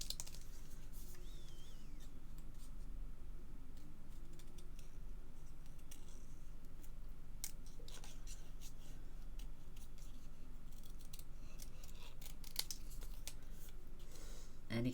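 Scissors fussy-cut paper around shapes for a handmade card, producing a long run of small, close snips and paper rustles that tick along steadily with no talk.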